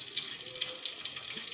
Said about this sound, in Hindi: 2 चम्मच डाल के और फिर थोड़ा सा पानी डालना है।